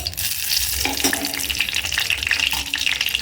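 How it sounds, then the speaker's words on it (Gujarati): Hot ghee sizzles and crackles steadily in a pan at the start of a dal fry, a close, continuous frying hiss with faint stirring and no talk. "તો જો એટલું ઘી નાખશું આપણે"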